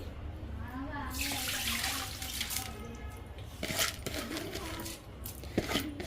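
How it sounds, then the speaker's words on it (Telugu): Lentils for sambar powder are rinsed under a running kitchen tap, water splashing and gushing over them with a few clinks, fairly soft and close. "ఇవి ఇట్లా బాగా కడిగేసుకొని ఇట్లా జల్లిగంటలో వేసుకోవాలండి"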